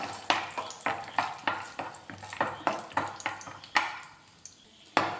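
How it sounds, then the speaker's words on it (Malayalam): About fifteen cashews fry in a tablespoon of hot ghee in a pan for semiya payasam, with a soft sizzle under rhythmic spatula scrapes and stirs roughly every half second, close and without speech. "ഒരു പാൻ അടുപ്പിൽ വെച്ച് ഒരു ടേബിൾ സ്പൂൺ നെയ്യ് ഒഴിച്ച് കൊടുത്തിട്ടുണ്ട് നെയ്യ് ചൂടാകുമ്പോൾ അതിനേക്കൊരു പതിനഞ്ച് കപ്പിലണ്ടി ഒന്ന് വറുത്തെടുക്കണം"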